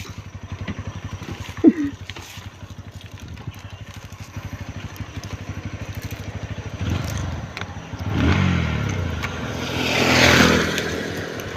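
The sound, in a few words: motorcycle engine revving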